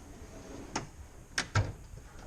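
A toolbox drawer slides open, a few short, quiet metallic clunks and rattles spaced over a couple of seconds in an otherwise quiet room.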